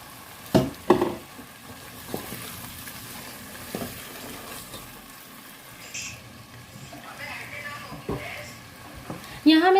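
Minced meat (keema) with garlic and ginger hitting a hot pan gives a steady low sizzle with stirring scrapes and a few louder clatters, while someone talks over it now and then.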